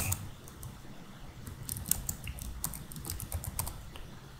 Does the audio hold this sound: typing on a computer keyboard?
yes